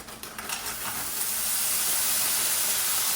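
Peppers and onions frying in a lightly oiled, warm pan, giving a steady, close, broadband sizzle that builds slightly and holds loud and even throughout, with some stirring at the start.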